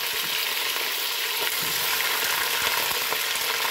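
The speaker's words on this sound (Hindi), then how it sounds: "गर्म तेल करके हमने इसके अंदर मीट ऐड करना है" Lamb meat frying in hot oil for do pyaza, a steady dense sizzle and crackle filling the whole stretch at an even, fairly loud level with faint stirring scrapes underneath.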